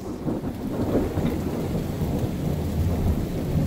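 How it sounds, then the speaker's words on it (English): Deep thunder rolls from a lightning strike close by during a night storm, rumbling steadily under constant heavy rain pattering on surfaces, loud and continuous with no voices. "That lightning hit right in front of us."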